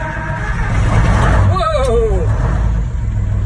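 A 1961 Seagrave pumper fire truck's engine cranks and catches, a loud, close rumble swelling to a steady idle, with a brief rising whine partway through.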